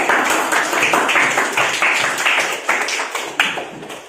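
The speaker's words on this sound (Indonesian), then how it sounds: "beri tepuk tangan untuk kelompok" A primary classroom of sixth-graders claps for a student group, loud, close, uneven bursts of many hands with sharp individual smacks, continuing steadily for a few seconds.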